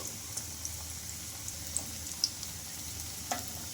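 Battered pieces fry in hot oil in a pan, giving a steady, even sizzle with occasional small pops and crackles.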